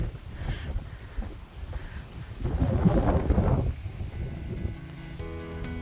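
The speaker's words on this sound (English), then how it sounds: "gusting winds of 40 sustained miles per hour" Wind gusting at about 40 miles per hour roars and buffets the microphone in uneven bursts, strongest in the middle, with a faint tone appearing near the end.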